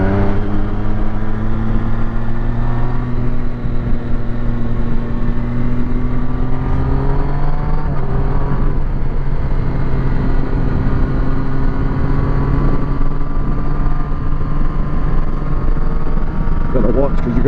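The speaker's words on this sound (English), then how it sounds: "We're still getting good engine tone." Car engine humming steadily while driving along a road, a constant droning tone that shifts gradually in pitch with speed, close and loud, with talking over it.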